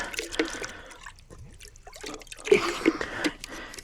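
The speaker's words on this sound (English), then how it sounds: "I'm going to fill this bottle up here for the pre-treat." Rinseless Wash solution trickles and splashes into a small bottle being filled for pre-treating a Range Rover, giving a faint, uneven dribbling and gurgling that is close but quiet.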